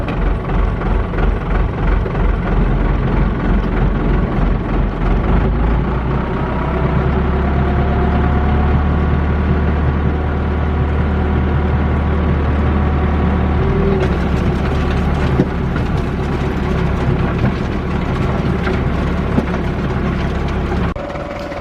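An old Ford Dexta or 6610 tractor engine runs continuously while cultivating in second gear, a loud steady diesel rumble with a rhythmic low throb, close and unbroken, no talk.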